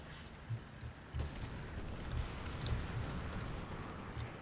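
A tank in the War Thunder video game takes fire from enemy tanks, with several dull, low booming hits spaced over a few seconds under a constant rumbling engine drone.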